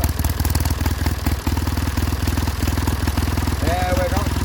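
An engine of unknown make with an automatic choke runs at tick over, giving a steady, close, rhythmic idle chug throughout with a brief higher whine near the end.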